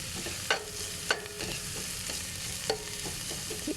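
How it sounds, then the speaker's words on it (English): Onions sauteing in a pan while being cooked with Indian spices, giving a steady low sizzle punctuated by a few sharp clicks and scrapes of stirring. "You saute the onions for like 3 to 5 minutes."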